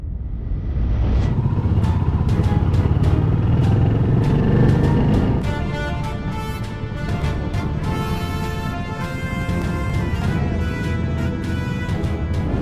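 A motorcycle engine runs steadily during a ride, a low continuous rumble with a shift partway through to a smoother, higher drone.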